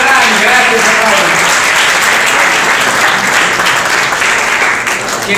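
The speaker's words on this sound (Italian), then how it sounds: "Qui possiamo applaudire il padrone di casa, Giampaolo Ferrari." Loud, dense applause from an audience greeting the host at a wine estate event, steady clapping close by that holds for several seconds and eases slightly at the end.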